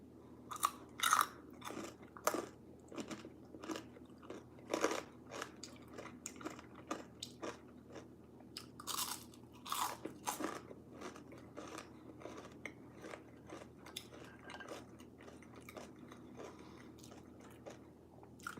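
Fries are chewed and crunched close to the mic, giving a long series of sharp, irregular crisp bites and squishy mastication that rise and fall over nearly twenty seconds.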